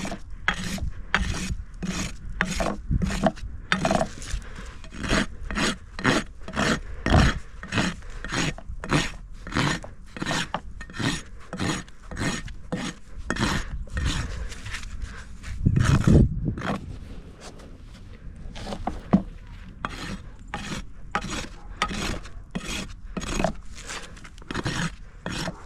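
Hoof rasp filing and beveling the edge of a horse's hoof during a trim, a long series of rhythmic scraping strokes, close and fairly loud, with a short pause partway through.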